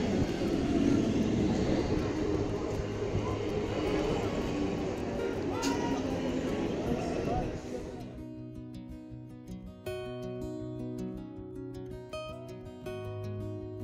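A Ranaghat local train ride to Dum Dum, first a loud roaring rumble of the moving carriage, then quieter with background music layered over the ride.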